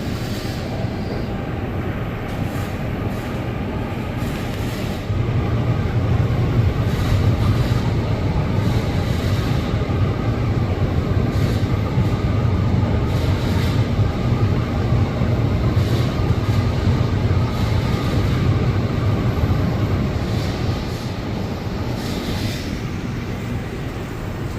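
An inclined elevator at the 34th Street-Hudson Yards subway station runs along its track, a continuous mechanical rumble and hum that grows slightly louder after a few seconds and holds steady throughout.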